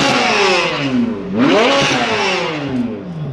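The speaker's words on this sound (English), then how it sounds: "that's crazy how good that car sounds. That's crazy that that's a Corvette." A Corvette Z06 fitted with an aftermarket exhaust revs hard at a drag racing meet, its engine pitch climbing, dropping and rising again in a loud, close, snarling run.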